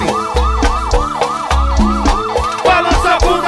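A looping siren sound effect wails in quick repeating rising-and-falling sweeps over a thumping beat in a Brazilian pagodão song, loud and steady throughout.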